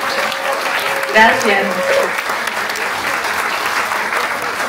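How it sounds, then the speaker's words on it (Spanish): A crowd at a book launch in Cali on women facing climate change applauds steadily in a dense, moderate wash, while a voice speaks briefly over the clapping. "No te hemos dado el aplauso a ti, pero te lo mereces 10 veces."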